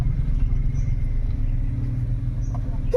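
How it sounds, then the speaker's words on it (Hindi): A car's engine rumbles steadily and close by as the vehicle pulls away, a low continuous drone with slight fluctuations and no talk over it. "चल गई गाड़ी।"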